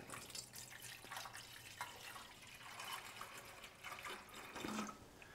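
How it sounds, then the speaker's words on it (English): Distilled water splashes and trickles into the steering box of an RA28 Fastback Celica under restoration, a faint, uneven pour with small drips. "Just gonna throw some distilled water in it."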